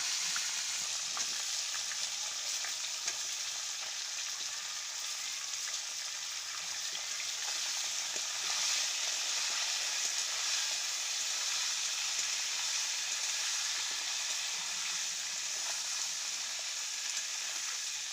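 Cauliflower and new potatoes frying in a generous amount of oil make a dense, even sizzle that holds steady and close throughout, with no voices over it.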